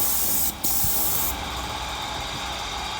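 Spray gun misting wood primer onto trim, a steady close airy hiss that runs throughout with a brief dip near the start.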